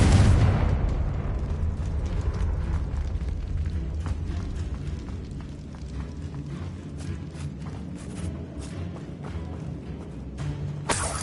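A Confringo fire spell goes off in Hogwarts Legacy with a loud blast, then a long rumbling fade of debris and crackle, and a second sharp burst near the end.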